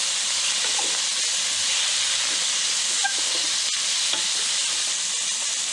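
Salted and peppered beef sears in hot oil, a steady loud sizzle and hiss running throughout with faint stirring clicks and no talking.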